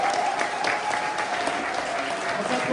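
A church congregation claps and cheers for Jesus during a Sunday worship service, sustained applause at moderate loudness that continues through the whole moment.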